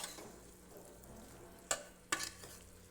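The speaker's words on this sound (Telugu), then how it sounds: "ఇప్పుడు బాగా పేస్ట్ కూడా వేసేసుకొని బాగా కలిపేసుకోవాలి" Masala paste being stirred into a broad beans curry in a pan, a low continuous scraping and sizzling with two sharp clanks of the spoon against the pan.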